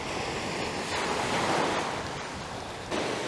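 Sea waves wash onto the Azov Sea shore at a beach resort in Shchyolkino, Crimea, as a steady, fairly loud rushing surf that swells and eases, mixed with wind noise.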